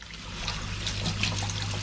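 Fresh water runs from a tap over soaked mixed beans draining in a kitchen sink, a close, steady trickling and splashing with a low hum underneath.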